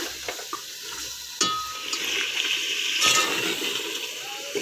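Mutton and masala fry for yakhni pulao with a steady close sizzle, broken by a few sharp clinks and scrapes of stirring in the pan.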